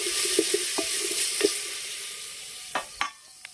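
Onions sizzle in hot oil in an outdoor village kitchen, a steady frying hiss broken by sharp clinks and scrapes of a spoon against the pan, close and fairly loud.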